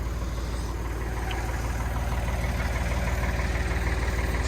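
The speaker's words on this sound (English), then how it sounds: "It's a 3-cylinder diesel." Massey Ferguson 1010 compact tractor with a small three-cylinder diesel idling close by, a steady, even low chug with a faint knocking rhythm that holds without change.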